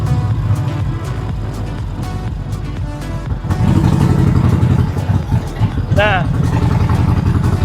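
A Harley-Davidson Sportster motorcycle engine rides slowly at about 20 km/h, giving a steady low, lumpy rumble that grows fuller and louder partway through, with a brief higher whine near the end.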